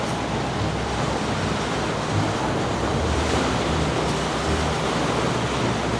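Sea waves roll against the eastern Sardinian coast near Santa Maria Navarrese, a steady, loud wash of surf mixed with wind buffeting the microphone, with no voices.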